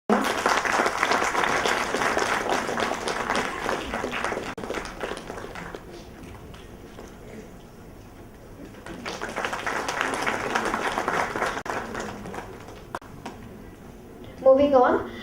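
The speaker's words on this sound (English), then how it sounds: "Can we have a round of applause for Dr. Krishnadas?" Audience applause at a 2014 conference felicitation ceremony, a broad wash of clapping that swells, fades, then rises again, with announcer-style talk in between.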